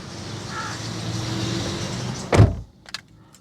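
The retractable door mirrors of a 2008 Toyota Wish folding in, a steady electric motor whir that ends in a loud clunk, then a brief faint mechanical click.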